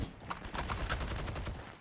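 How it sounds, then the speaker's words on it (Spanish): Rapid bursts of gunfire in the video game Heroes & Generals crackle in an uneven rattling volley, fairly close and continuous for a couple of seconds. "ellos te están disparando porque saben que estás ahí"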